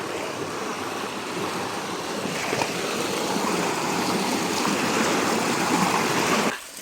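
Continuous rushing water pours steadily nearby at a water station on a mountain trail on Mt. Napulak in Iloilo, a broad, even splashing roar that holds for several seconds before dropping off at the end.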